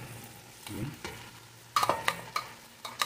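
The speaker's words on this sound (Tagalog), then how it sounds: "Ilagay ko na yung salted shrimp." Salted shrimp drop into a pan of coconut milk and tomatoes, giving a soft sizzle followed by several sharp scraping stirs and clinks of a utensil, with quiet bubbling underneath.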